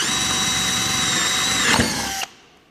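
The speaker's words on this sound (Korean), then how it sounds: "날이 구멍을 뚫는 과정에서 바닥으로 관통이 될 때" A power drill bores a hole through wood, a loud, steady whine running close up for about two seconds before it cuts off abruptly, leaving a quiet tail.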